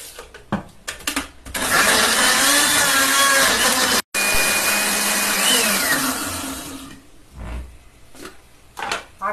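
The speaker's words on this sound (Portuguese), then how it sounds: "vai colocar tudo aqui no liquidificador e vai bater" A kitchen blender whirs loudly for several seconds while blending lemon with the peel and eggplant into a detox juice. The motor pitch shifts as the mix churns, and there are brief pauses and clatter at the start and end.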